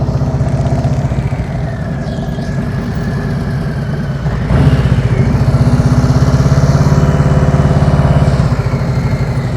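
A motorcycle engine idling and revving gently during slow-speed riding practice, a close, steady throb that swells as the throttle opens partway through, with no voices.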